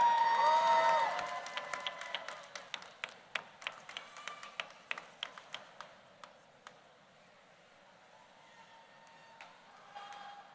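Scattered audience claps ring out at the Rutgers School of Social Work convocation for MSW graduates, sharp distinct hand claps in a large hall that thin out and fade, with a few more near the end.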